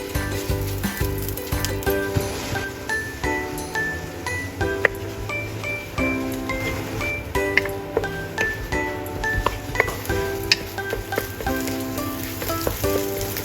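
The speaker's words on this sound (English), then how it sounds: "Frying the eggs with the rice creates a golden grain effect" Continuous crackling sizzle of eggs and rice stir-frying in a hot wok, with light scraping and clinks, while gentle background music plays throughout.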